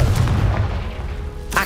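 A Confringo fire-blast spell from Hogwarts Legacy goes off as a loud, rumbling boom sustained for over a second, with a second sharp burst at the end.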